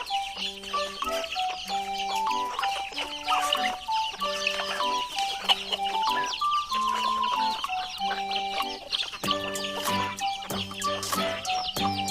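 Several chickens cluck continuously nearby, overlapping short clucks and chirps in a busy, uneven rhythm.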